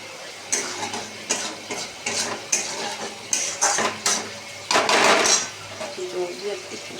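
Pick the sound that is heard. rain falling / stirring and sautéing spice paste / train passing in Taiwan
stirring and sautéing spice paste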